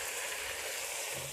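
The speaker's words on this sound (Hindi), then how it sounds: "अच्छी तरह इसको मैं भूनूंगी" Minced meat masala frying in oil in a pan, a steady close hiss and crackle of sizzling that holds at an even level throughout with no voices.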